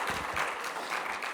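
Audience applause at the Sarajevo Business Forum 2023, a moderate room full of steady clapping heard at medium distance, continuous throughout with no distinct voices.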